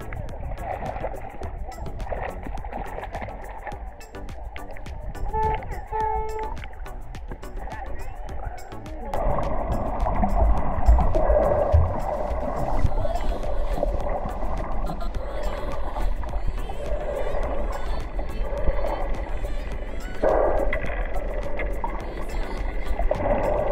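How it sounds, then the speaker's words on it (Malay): A boat motors on the water off Teluk Bakau, Pulau Tioman, a continuous engine and hull-and-water sound that grows louder and fuller after the first stretch, with people talking over it. "Bot kita yang kita nak pergi ke Pasir Panjang kejap lagi."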